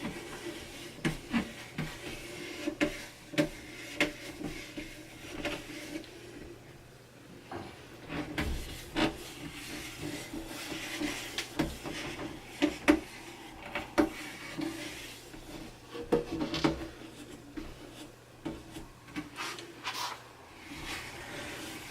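Soft, repeated rubbing and scrubbing strokes of a polishing pad on wood during French polishing, quiet and close, with irregular bursts as pressure shifts; no talking.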